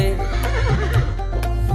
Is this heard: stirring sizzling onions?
no